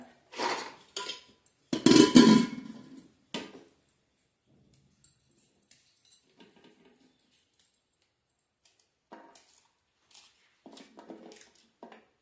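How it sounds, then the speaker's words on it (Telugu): Green chillies tipped into a cooking pan for broccoli curry give a short burst of clattering metal and a sizzle, then small scattered clinks and taps that fade toward near silence. "పచ్చిమిర్చి పోసుకుంటా."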